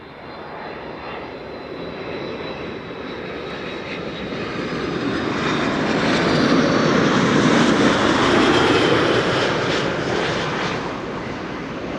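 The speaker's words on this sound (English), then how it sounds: "A330-200 arriving from Edmonton." An Airbus A330-200 airliner arriving at Amsterdam Schiphol makes a broad engine roar that builds as it passes close overhead, peaks loudly midway, then eases off a little, with no talk.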